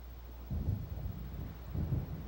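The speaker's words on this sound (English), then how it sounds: "It seems there's a storm coming." Low rolling thunder from an approaching storm in the video game Alan Wake, two deep distant rumbles over a dull windy background, faint and with no voices.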